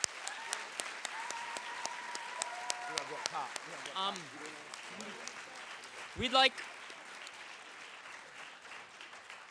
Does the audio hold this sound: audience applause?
yes